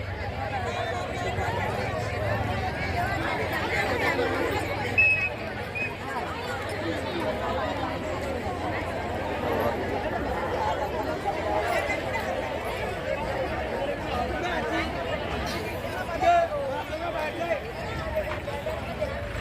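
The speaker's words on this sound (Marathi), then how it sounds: "खूप छान गर्दी झालेली आहे आज सकाळपासून इथे इथं पाय टाकायला पण जागा नाही" A large crowd chatters in a dense, steady babble of many voices at a packed religious katha gathering in Chalisgaon, where free tea and breakfast are handed out. The hubbub stays loud and continuous throughout, with a few brief louder knocks.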